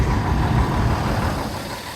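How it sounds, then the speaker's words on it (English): A Nicaraguan chicken bus pulls in on the road, its heavy diesel engine rumbling loud and close with continuous low traffic noise throughout. "And here's a bus too."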